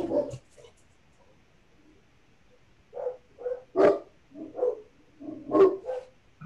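Several dogs bark in short bursts of one or two woofs, spaced a second or so apart, moderately near and fairly loud in an otherwise quiet indoor room; no talk.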